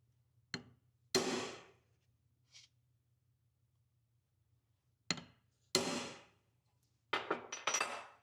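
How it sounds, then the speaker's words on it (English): Sharp hammer blows on a steel center punch ring out in a few isolated strikes, a pair of single hits followed by clustered double and triple whacks, loud and close against a quiet steady hum. "when I go and whack this with a hammer"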